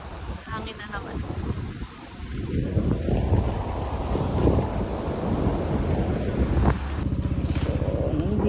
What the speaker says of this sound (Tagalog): Hangin na naman.